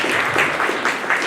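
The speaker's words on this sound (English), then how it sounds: "A round of applause for them." Applause at a community presentation held at a playground venue, a short, loud, dense burst of many hands clapping close by with no pauses.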